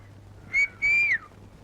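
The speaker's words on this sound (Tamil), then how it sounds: "உங்களை பார்த்தா விசில் அடிக்குது" A person whistles to get someone's attention: a short sharp note, then a longer sustained tone that slides down at the end, clear and close over a quiet background.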